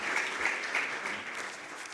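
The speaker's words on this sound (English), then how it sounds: "A round of applause for our working group." Moderate audience applause at a public-private forum in Namibia, an even wash of many hands clapping at some distance, without talk, for a working group.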